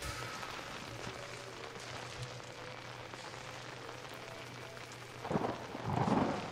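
Thunder rumbles through steady rain in the dark horror video game Outlast, a constant low wash with a louder swelling roll near the end.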